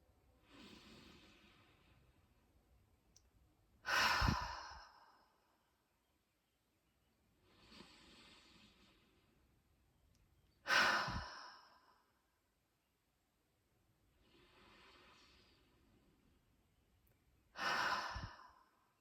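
Three slow breathing cycles in a guided meditation, each a soft, drawn-out nasal inhale followed by a louder, breathy exhale through the mouth, close and alone in a quiet room, evenly spaced about seven seconds apart.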